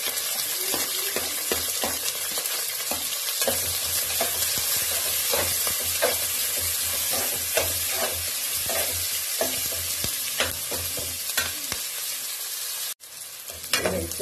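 Onion, green chili and ginger garlic paste frying together in hot oil, with a loud steady sizzle and repeated stirring scrapes, ending with a brief dip.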